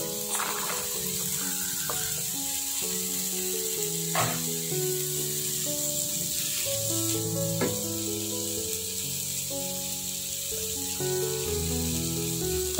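Potatoes and carrots frying in a fragrant spice paste give a steady close sizzle throughout, with a melodic music track playing over it.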